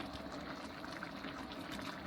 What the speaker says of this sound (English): You see it's bubbling and thickening and the pasta's getting thicker.